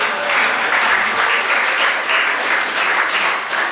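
An audience claps steadily at a Hindu religious discourse in Baraut, Baghpat, producing a dense, even, fairly loud wash of many hands applauding together without a break and with no voices over it.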